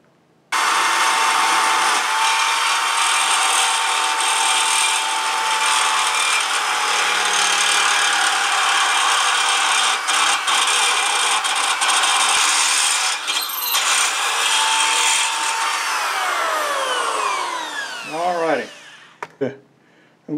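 A power tool drill bores and enlarges a hole in a homebuilt deer carrier, a loud, close, continuous whine with grinding for most of the stretch, then spinning down and stopping near the end.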